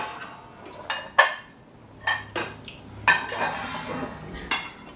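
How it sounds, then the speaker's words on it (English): In a home kitchen, a bowl is grabbed and set out among other dishes, giving several separate ceramic clinks and clattering knocks of utensils at close range over a quiet background. "we're gonna grab a bowl"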